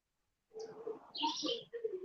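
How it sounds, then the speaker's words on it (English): A few birds call outdoors in short chirping bursts, close and clear against an otherwise silent background, lasting about a second and a half. "Anytime I'm outside, you just hear a lot of birds"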